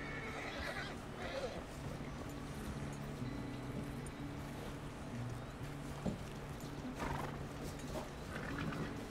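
A horse in the video game Red Dead Redemption 2 whinnies a few times over steady clopping hooves and low rumbling background, with a voice speaking faintly now and then.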